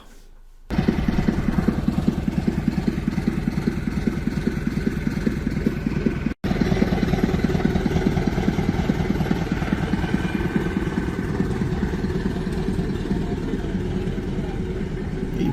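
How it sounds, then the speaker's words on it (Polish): A heavy diesel locomotive engine drones steadily at a low pitch, loud and close, after a brief start, continuing without a break apart from one tiny dropout. "lokomotywa rusza w swoją pierwszą jazdę"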